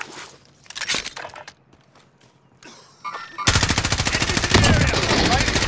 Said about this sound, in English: I got shot at